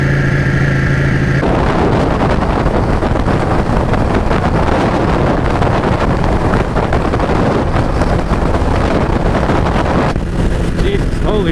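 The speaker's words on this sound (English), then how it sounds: "This wind is crazy." Strong wind buffets a motorcycle rider's helmet microphone in a loud, continuous roar of gusts that swamps the ride, with the engine hum barely showing beneath.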